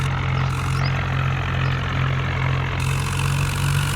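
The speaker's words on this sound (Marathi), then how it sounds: "सध्याला दुसऱ्या गेअरवर ट्रॅक्टर चालू आहे बघा" A tractor engine chugs steadily in high second gear while hauling a trolley, a constant close low-pitched drone with an even mechanical pulse and no speech.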